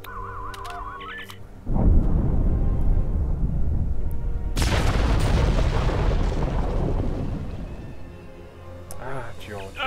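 A loud game explosion in a Star Trek video game set on a rocky alien landscape, a sudden heavy boom followed by a long rumbling roar that lingers for several seconds before easing off.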